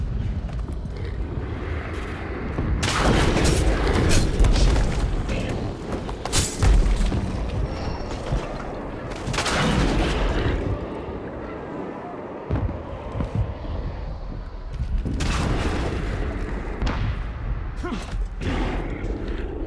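Heavy booms and crashing blasts from explosives in the Middle-earth: Shadow of War game, several loud impacts spread across a rumbling, mechanical battle soundscape, with creaks and clattering in between.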